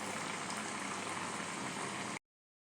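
Semolina and rice flour vadas frying in hot oil on a gas stove, giving a steady, dense sizzle and bubbling that stays even and close throughout before cutting off abruptly.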